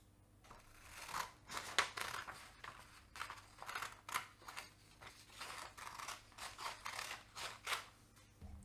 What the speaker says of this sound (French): je prends un ciseau et je vais couper les deux parties.